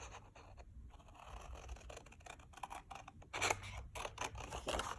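Scissors snipping through duct tape, cutting two pieces to size for a sketchbook cover, with short crisp cuts and scraping rustles close by, a denser burst partway through, no talking.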